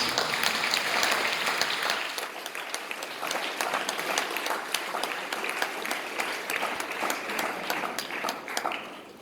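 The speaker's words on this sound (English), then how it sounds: "another round of applause for all our participants and champions" A drama competition audience at an awards presentation gives a long round of applause for participants and champions. The clapping is dense and steady, with crisp individual claps rising above the crowd throughout before it thins at the end.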